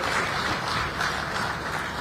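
An audience at an investment conference closing ceremony in Kilifi County, Kenya claps in a dense, steady round of applause that stays moderately loud and even for its brief duration.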